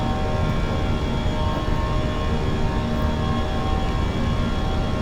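Steady loud roar of American Airlines A320 jet engines at climb thrust heard from inside the cabin, a constant broadband rumble with faint tonal whine and no breaks.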